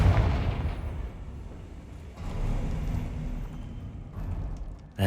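A Confringo blasting curse goes off in Hogwarts Legacy, a loud booming burst at the start that rolls into sustained rumbling crackle, with a second swell of blast noise midway and a sharp pop at the very end.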